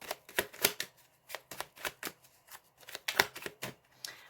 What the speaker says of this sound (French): j'étale les cartes